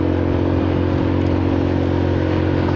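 A Honda Forza 300 scooter's exhaust hums held at 5,500 rpm, a smooth, steady drone with a low engine tone and even hiss, continuous and close, with no voices.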